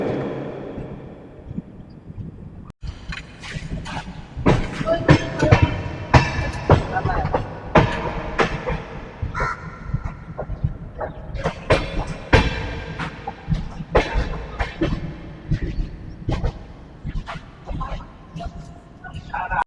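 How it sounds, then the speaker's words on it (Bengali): Gitanjali Express entering Kharagpur station: continuous rattling clatter and rhythmic clanks of the train rolling in, loud and close, with a brief sharp knock early on and no talk. "খড়গপুর ঢুকছে, ঢোকার মুহূর্ত"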